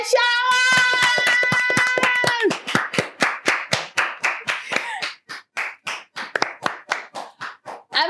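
Studio audience clapping on a talk-show set, a dense burst of applause at first that thins into a run of distinct rhythmic hand claps, with a brief voice over the opening.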